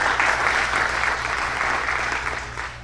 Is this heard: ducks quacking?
no